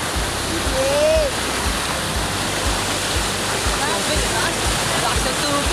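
Strong water rushes loudly and continuously at Baliti lake, a dense roar close by with no break.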